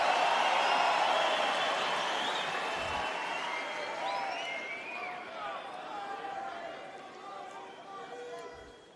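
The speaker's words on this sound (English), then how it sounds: "the crowd's really responding" Tennis crowd at the Australian Open 2014 semifinal applauding and cheering in a large stadium, a broad roar that starts loud and slowly fades, with commentators talking over it.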